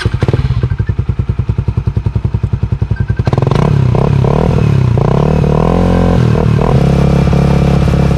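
A motorcycle engine idles with a fast, even putter, then revs up loudly and rises and falls in pitch through several throttle bursts, close by.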